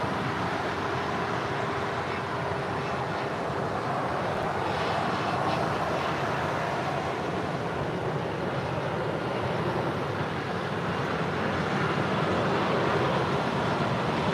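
A United Airlines Boeing 737 MAX 9 taxiing toward a runway at LAX, its steady broadband jet engine roar holding at a constant level throughout, with no talking.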